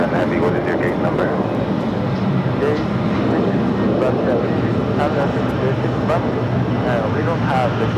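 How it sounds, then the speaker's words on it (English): A Boeing 767-300ER heavy jet rumbles at JFK airport as a steady, broadband engine roar that holds even throughout, heard at moderate distance with no clear speech on top. "This is the flight heading back to LAX, 767-300ER."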